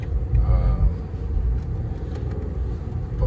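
Heavy BMW 550i sedan heard from inside during a ride, a loud, steady low engine and road rumble as the car pulls and picks up speed, with no talking.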